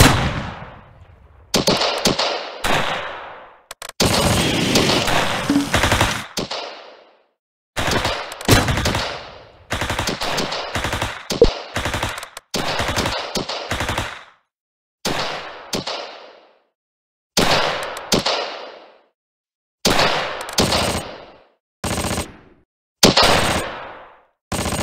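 Bursts of machine-gun and rifle fire from the Close Combat war game, with a Tiger tank battle at Rauray: repeated loud rattling volleys separated by short gaps, continuing throughout with no speech.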